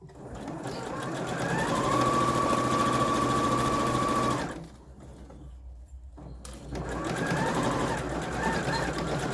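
Sewing machine back stitching the end of a fabric scrub bag, a steady close mechanical whirring run that stops for about two seconds, then resumes.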